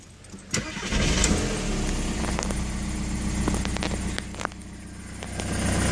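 An Audi A3 engine cranks and catches near the mic, then settles into a steady idle for several seconds with a few faint clicks; the car has a fault.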